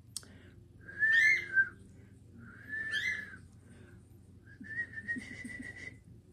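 A pet bird whistling indoors, with three clear, bright whistled phrases separated by quiet pauses, the last one longer and softer with faint chatter mixed in.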